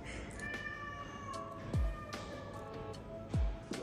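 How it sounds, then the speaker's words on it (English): A cat gives two short, plaintive meows a couple of seconds apart, nearby and fairly clear over a busy background of voices and chatter. "There's a cat."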